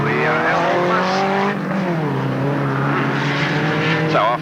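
Race cars including a smoking Ford Anglia roar around the Alwalton Raceway oval, loud continuous engine drone with rising and falling pitch as cars pass, a brief tire squeal near the end.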